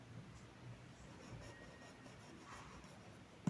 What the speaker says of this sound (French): Alors, les minutes, ici, je vais écrire minutes.